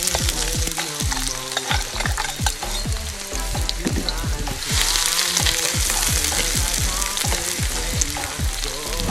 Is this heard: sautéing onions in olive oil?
yes